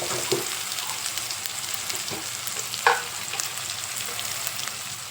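Ginger paste with turmeric and salt frying in a pan, a steady close sizzle broken by a few light scrapes and taps of a spoon, with no talking.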